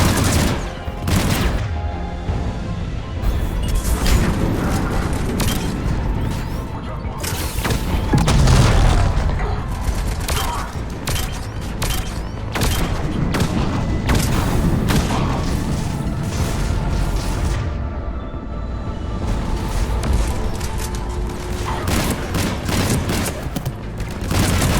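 Heavy cannons firing during a battle in the video game Mass Effect 3, loud booming volleys and rapid gunfire bursts pounding continuously in a dense, relentless barrage.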